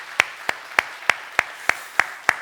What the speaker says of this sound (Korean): 우리 말씀 듣기 전에 먼저 하나님께 감사와 영광의 박수 올려드리길 소원합니다